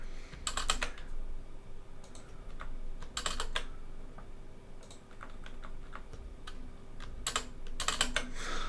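Quick bursts of typing on a computer keyboard, clustered clicks of keys with short pauses between runs, close and fairly quiet against a faint steady hum.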